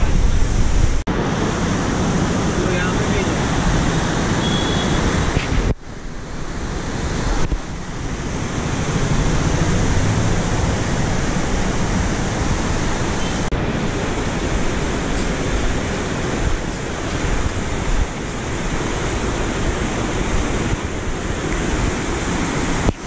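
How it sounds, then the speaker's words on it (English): A river in Old Manali rushes in a steady, loud, broadband roar that continues unbroken, with occasional bumps of wind noise against the microphone. "नदी के बहने की आवाज़ इतनी अच्छी लग रही थी कानों को"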